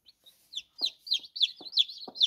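Aseel hen with newly hatched chicks: a rapid run of high, close peeping chirps repeating steadily, with a few low soft clucks mixed in.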